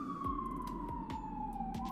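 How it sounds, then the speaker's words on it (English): Siren wailing continuously outside, with a tone sliding slowly downward across the whole span, accompanied by repeated low thumps and steady traffic rumble; ambulances are stated as the source. "these sirens are nonstop"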